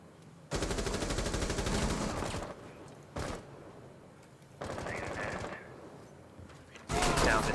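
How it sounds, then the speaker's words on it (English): Gunfire in Rainbow Six Siege during a pro league PC match, loud sustained bursts of rapid shots in three separate volleys with a brief single burst between, near and harsh, no talk over them. "Flamers taking a lot of damage from that shotgun despite it being flashed"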